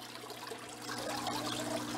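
Sculpins and their water pour into a fish tank, a soft close trickle that swells into a fuller, steady gush partway through, with no voices.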